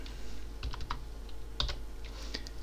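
Keys on a computer keyboard being typed in short bursts of a few clicks, close and fairly quiet, against a steady low hum with no talking.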